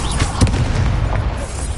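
An Incendio fire spell cast in Hogwarts Legacy bursts out as a loud, low booming whoosh that rumbles and sustains for a moment before trailing off.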